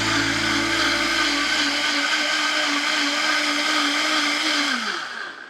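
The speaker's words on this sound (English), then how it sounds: "And I am going to puree this until completely smooth." A blender purees onion, garlic, salt and pepper for Mexican red rice, a loud, close whine that climbs in pitch after a couple of seconds, holds steady, then fades as the motor winds down.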